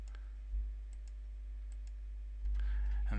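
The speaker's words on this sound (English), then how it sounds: "let's click on this one" A single soft computer mouse click near the start over a steady low hum, followed by a faint rustle later in the quiet background.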